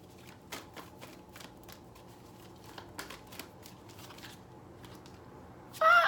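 Tarot cards being shuffled and drawn, a rapid run of crisp riffling flicks close at hand, with a brief louder burst at the end.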